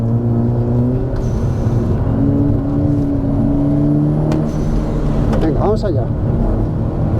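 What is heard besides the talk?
VW Golf GTI car engine accelerating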